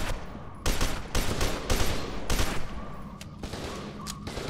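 Rapid bursts of gunfire from the shooter game F.E.A.R. 2: Project Origin, loud and close, with repeated volleys and short pauses between them.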